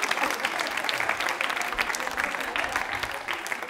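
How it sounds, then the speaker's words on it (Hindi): A women's group audience at a quiz show claps for a prize winner, a brief steady patter of applause from a modest crowd, fairly soft and continuous. "प्रियंका जी के लिए जोरदार तालियां बजाइए"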